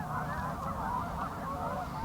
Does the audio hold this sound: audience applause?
no